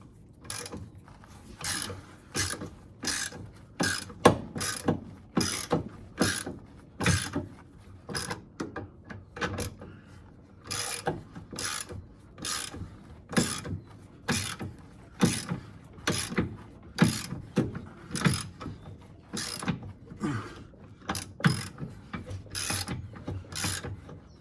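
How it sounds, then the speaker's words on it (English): A ratchet clicks steadily, close up, in repeated short bursts of rapid pawl ticks with brief pauses between strokes, used together with vice grips on a spinning part. "we've got our trusty ratchet and our vice grips, since that spins"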